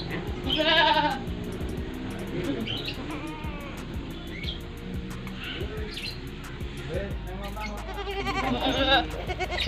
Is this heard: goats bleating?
yes